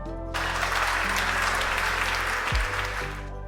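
A burst of applause used as a sound effect in a Hindi romantic audio story: steady, close clapping from a group over soft background music, starting abruptly and cutting off after about three seconds.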